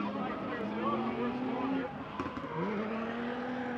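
A Nissan 350Z drift car at a drifting competition revs hard into the first corner, its engine note droning and shifting pitch at a distance, with a commentator talking over it throughout.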